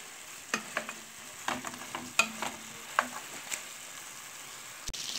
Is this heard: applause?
no